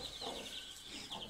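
Chicks and young roosters clucking together in a coop, a busy overlapping chorus of soft peeps and clucks, fairly faint and close, with no talking.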